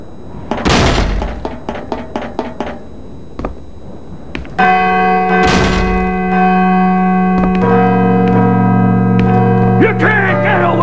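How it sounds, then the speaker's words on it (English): A large bell tolls in Call of Cthulhu: Dark Corners of the Earth, its loud resonant strike ringing on in a long sustained hum after a few heavy door-like thuds and knocks. "I should let the bell finish ringing first."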